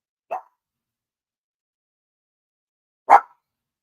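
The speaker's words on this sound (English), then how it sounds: "Excuse me for my dog, y'all." A female dog gives two single sharp barks about three seconds apart, close by, with silence around them.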